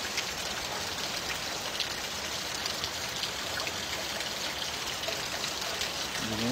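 Heavy summer rain falls in a dense, constant roar, close and loud throughout, with no voices over it.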